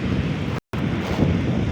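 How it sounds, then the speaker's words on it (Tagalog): Strong wind roars across the microphone on a beach at General Nakar, Quezon, with crashing waves of surf underneath, loud and continuous apart from a brief cut. "Malakas yung hangin. Tsaka yung alon."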